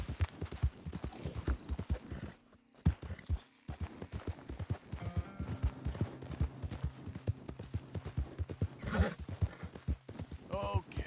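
A horse gallops steadily in Red Dead Redemption 2, its hoofbeats a quick, even clip-clop drumming throughout, briefly breaking and resuming, with a rider's voice speaking over it and a whinny near the end.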